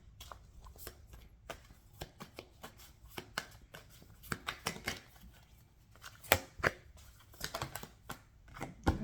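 Tarot cards are shuffled by hand during a reading, giving soft irregular riffles and taps that come close and gentle, then sharpen into louder flicks and snaps later on.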